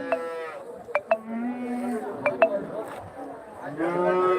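Cattle moo nearby at a busy livestock market at Bagalur near Hosur, with several drawn-out calls, sharp bell clinks in between, and faint voices in the background.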